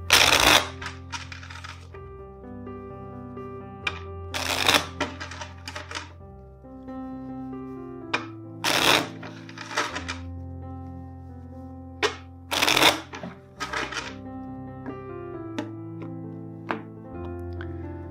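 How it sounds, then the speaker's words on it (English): Tarot cards shuffled in repeated bursts, crisp riffling clatters arriving in several distinct clusters between quieter handling over a soft steady background tone. "First, let's shuffle the deck 4 times for you."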